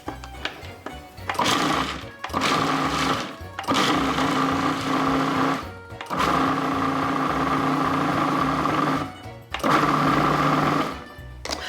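A food processor pulses basil pesto ingredients in loud motor bursts of a few seconds each, separated by brief pauses, a steady high whirring hum dominating throughout with no talking.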